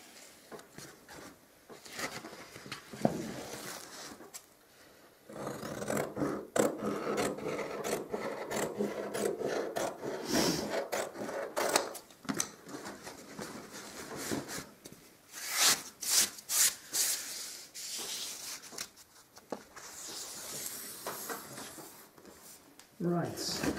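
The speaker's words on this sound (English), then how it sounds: "I'll just cut this edge down this side" A blade trimming lining paper along a wall edge: a long rasping, scraping drag with bursts of rougher strokes, close and fairly loud, with a person talking over parts of it.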